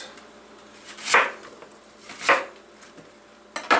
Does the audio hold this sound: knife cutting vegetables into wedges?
yes